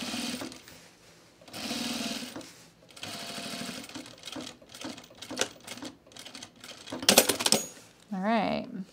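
A sewing machine runs in short bursts, stitching fabric under the presser foot while it is guided by hand, with pauses and handling noises between runs.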